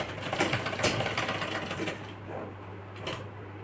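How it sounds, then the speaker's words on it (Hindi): A sewing machine stitches a seam along the fabric of a girl's one-piece frock, a close rapid clatter of needle strokes that eases into a quieter hum after about two seconds. "इसको अच्छे से बराबर करके इस तरह से अच्छे से पूरे पे सिलाई लगा लेंगे।"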